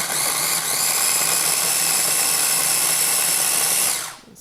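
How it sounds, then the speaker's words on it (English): A food processor grinds half an onion at high speed, a loud steady whirring motor that runs for about four seconds before cutting off abruptly. "I'm going to grind that up and then add it in."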